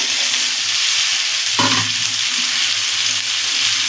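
Kundli fish fry in fish oil with a loud, dense, continuous sizzle, close up, with a brief stir or pop partway through.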